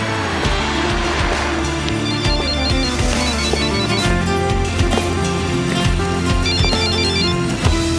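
A telephone ringtone plays as a loud, continuous melodic tone pattern in an indoor drama scene, layered over background music and running through the whole stretch with no talk.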